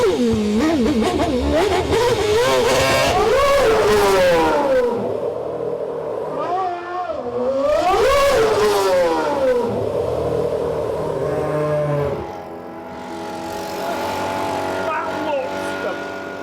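Formula 1 racing car accelerating past on a tight course, its high engine note sweeping up through repeated gear changes in loud surges, then dropping away and returning, with a voice heard only in passing.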